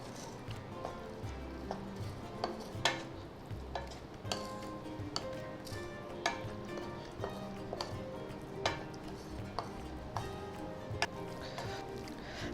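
Motichoor ladoo mixture is stirred and cooked in a pan, with steady close scraping and clacking strokes in an uneven rhythm over a continuous soft sizzle.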